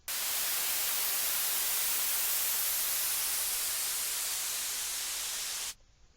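A loud wash of white noise hisses steadily for several seconds, then cuts off abruptly into near silence.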